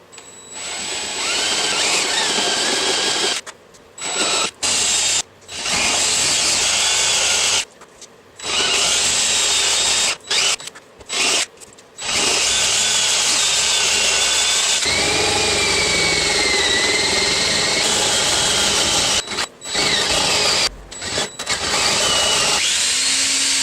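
A step drill bit bores through oak in a steady, high-pitched grinding whine that runs for long stretches, broken by several brief pauses, loud and close with no talk.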